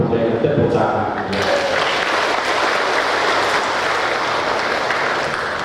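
Wedding guests at a traditional Karo ceremony breaking into loud, sustained applause after a short stretch of talk, the clapping dense and continuous to the end.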